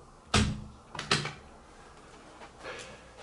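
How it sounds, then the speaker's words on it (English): A door in an apartment bedroom is pushed shut with a sharp thud followed by a second softer knock, quiet room tone around it. "Whoops, forgot to close the door."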